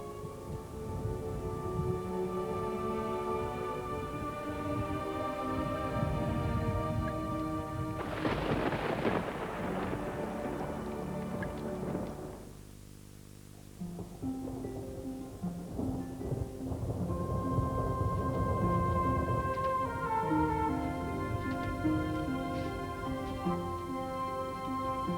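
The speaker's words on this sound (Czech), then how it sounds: "No, výborně, blíží se bouřka." Thunder from an approaching storm rumbles and cracks loudly beneath a sustained orchestral score in an animated rabbit film, with a brief quiet lull midway before the music swells again.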